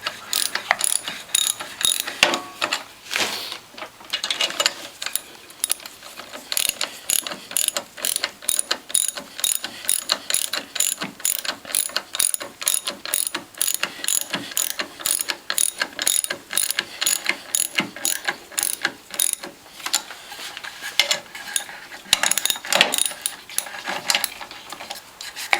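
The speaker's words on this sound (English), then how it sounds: "now with the ratchet, we're going to tighten two of these bolts on opposite sides" A hand ratchet tightens bolts on a Norwalk juicer during a return spring installation. Rapid, steady metallic clicking repeats for the whole stretch, close and clear, with short pauses between runs of strokes.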